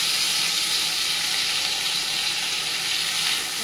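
Washed rice and dal land in a pan of sizzling spices, giving a steady, loud hiss of frying and steam that holds evenly throughout with no talking.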